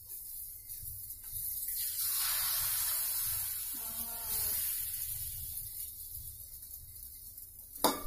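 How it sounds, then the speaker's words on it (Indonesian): An egg fries in a pan with a steady broad hiss and sizzle that swells and fades over several seconds, close up with no talk, ending with a brief clink. "Goreng telur harus sabar, kalau tidak telurnya hancur."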